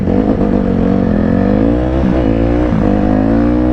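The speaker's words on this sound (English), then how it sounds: "On that KX 450" Kawasaki KX450 dirt bike engine revving hard and close, a loud sustained buzzing drone whose pitch dips and climbs again as the throttle is worked.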